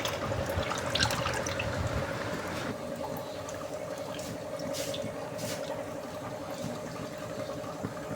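Tap water running steadily into a sink while leafy greens (keerai) are rinsed in a home kitchen, a continuous close splashing stream with scattered small splashes and drips.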